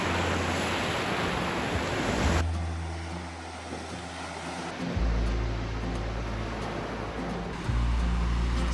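Ocean waves wash onto a Pacific Northwest beach as a broad, steady roar, with low wind rumble on the microphone and no voices.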